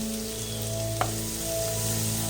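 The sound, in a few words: yogurt being stirred into frying masala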